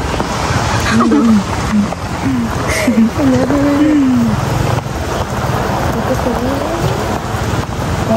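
Heavy rain pours down in a constant loud wash, heard from near a bus, while people talk and call out over the downpour.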